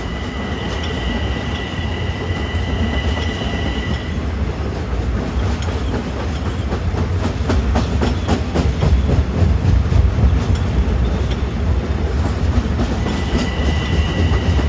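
LIRR train 770 rolls past on a triple-track line, a loud sustained rumble with rhythmic clickety-clack of wheels over rail joints and faint squeals, building toward the middle as it passes.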